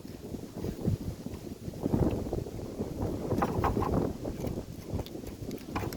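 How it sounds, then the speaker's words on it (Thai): Strong wind blows outdoors, buffeting the microphone in heavy, uneven low rumbling gusts that continue throughout with rustling and knocking underneath. "มื้อนี้ลมเนาะ"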